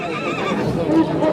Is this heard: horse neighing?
yes